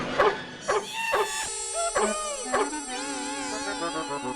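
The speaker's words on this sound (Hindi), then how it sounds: "भिड़े मास्टर, अभी के अभी निकालो इस कुत्ते को" A dog close by gives a burst of sharp, loud barks and yips, then breaks into a long wavering howl and whimper, heard on its own without talk in a TV comedy scene.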